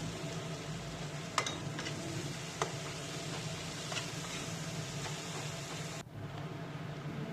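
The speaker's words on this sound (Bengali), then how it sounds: "কড়াইয়ের মধ্যে এখন দিচ্ছি একটা পেঁয়াজ কুচি করে। পেঁয়াজটা একটু ভালো করে ভেজে নিতে হবে।" Chopped onion fries in oil in a wok for a pangas fish curry. The sizzle is a faint, steady hiss with a couple of light utensil taps, and it cuts out near the end.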